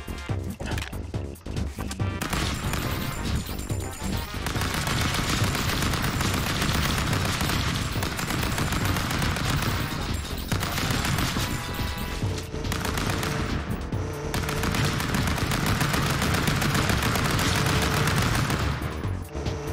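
Dense bursts of video game gunfire, a rapid fusillade of shots that keeps going almost without a break over about twenty seconds, loud and close, with only brief pauses.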